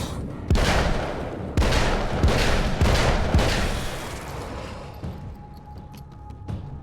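Gunshots in the horror action game Alan Wake's American Nightmare ring out as about six sharp, loud reports spaced roughly half a second to a second apart, each with a booming tail, then fade to quieter game ambience.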